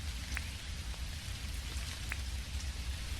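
Rain pours in the video game Dinkum, a continuous soft hiss of drops on surfaces that stays steady and fairly quiet throughout, with no talking.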